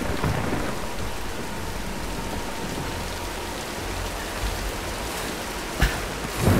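Steady heavy rain pours through a thunderstorm in the video game Tomb Raider (2013), a constant dense hiss with a couple of sharp thunder cracks near the end.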